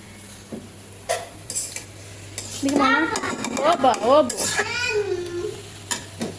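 A spoon stirs a vegetable bhaji in a frying pan, scraping and clinking over a steady sizzle, while an adult and someone talk loudly over the cooking.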